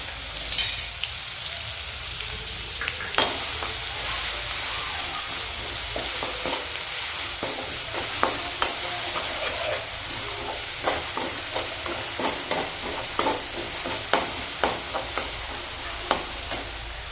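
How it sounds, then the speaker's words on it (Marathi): Green chili and garlic paste sautéing in a few spoons of oil gives a continuous close sizzle. Rhythmic ticks and taps of a spoon stirring against the pan grow more frequent toward the end, and nobody speaks. "तेल ओतलेलं आहे त्यामध्ये मी ही हिरवी मिरची आणि लसूण यांचं वाटण केलेलं चांगलं परतून घेते"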